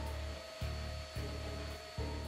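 Vacuum cleaner running on carpet, a steady motor whine with a constant tone, interrupted by a few rhythmic surges as the nozzle is pushed back and forth, close and moderately loud.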